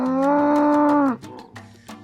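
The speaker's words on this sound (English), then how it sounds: "So many cows." A cow in a field lets out one long, loud, close moo lasting about a second, followed by quieter rustling and a fainter distant sound.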